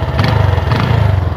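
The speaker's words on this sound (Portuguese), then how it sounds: "A moto pegou, né? Facilmente." A motorcycle engine runs just after starting, a loud close throbbing idle with a fast, slightly uneven pulse and a couple of small revs.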